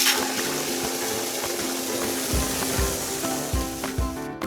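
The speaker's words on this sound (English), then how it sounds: "I'm going to add a little more water to get some suds going and mix the boat soap around." Steady running water splashing into a bucket of boat soap, with soft rhythmic thumps of stirring near the end, close and continuous.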